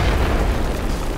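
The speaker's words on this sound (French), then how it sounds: "L'explosion d'un bâtiment" A building explosion in a Spider-Man video game rumbles as a dense, sustained roar of blast noise filling the whole moment, loud and continuous with no voices.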